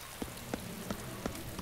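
Rain falling in the video game DayZ, a steady hiss of drops on surfaces with small regular taps about every third of a second, moderately quiet and with no voices.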